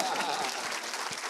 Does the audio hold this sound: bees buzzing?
no